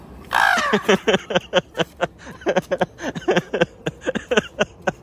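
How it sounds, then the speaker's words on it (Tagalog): Crows caw repeatedly in quick, rhythmic bursts, loud and close, with a harsher call at the start. "Ganito po yung mga sigaw ng uwak dito tuwing mara"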